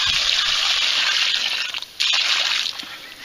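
Lucky 7 trace mineral attractant liquid is poured out onto wet ground at a whitetail deer mineral site, giving a steady close hissing gush that briefly cuts out midway and then resumes.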